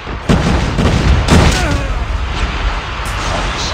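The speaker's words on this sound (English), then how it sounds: "Flashbang!" A flashbang grenade goes off in a Call of Duty match, a loud close boom followed by a ringing, hissing decay over a noisy game background.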